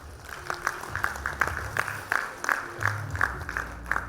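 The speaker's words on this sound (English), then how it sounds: "Better put our hands together and give them a better round of applause, everybody" Audience clapping at a campus graduation ceremony, steady applause from a crowd in a hall with a rhythmic, fairly distant quality and some louder individual claps standing out.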